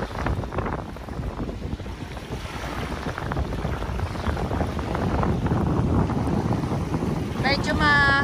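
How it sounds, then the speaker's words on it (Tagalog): Strong wind buffets the microphone with a loud, steady roar at Manila Bay, surf crashing and churning underneath, and a brief chirping sound near the end. "Kasi nga po malakas po ang hangin at ang hampas ng alon."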